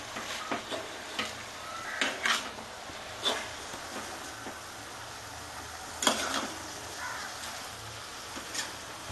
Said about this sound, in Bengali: আমি এবার নিচেরগুলো নিচের বাঁধাকপিরগুলো ওপরে তুলে দেবো